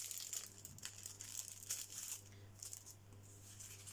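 Small package of bookmarks being opened, its plastic wrapper crinkling and rustling in close, quiet bursts throughout over a faint low hum.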